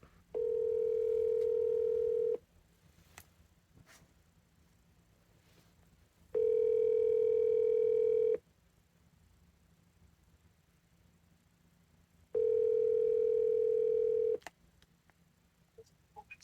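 A telephone ringback tone sounds three times, each tone about two seconds long with roughly four seconds of quiet between, clear and steady with no talking.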